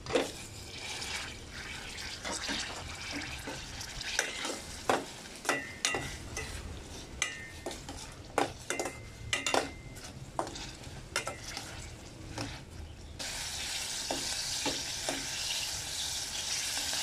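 Chicken cooks in a pan with a constant sizzle while a utensil stirs and scrapes in irregular clacks, the frying hiss swelling louder toward the end.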